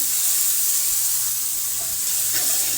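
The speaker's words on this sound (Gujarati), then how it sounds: "હવે આપણે તે બધું હલાવીને મિક્સ કરી લઈશું અને 1 થી 2 મિનિટ માટે ડુંગળીને સંતળાવા દઈશું." Onions sauté in a pan for Manchurian gravy, giving a loud, continuous sizzle close up, with faint scraping as they are stirred.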